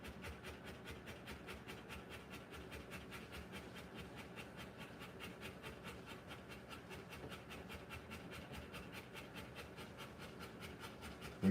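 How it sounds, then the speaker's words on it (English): A Rottweiler in labor pants fast and steadily, a quiet, close, rapid rhythm of short breaths that continues evenly without a break. "When you see her stop panting, that's when she's pushing."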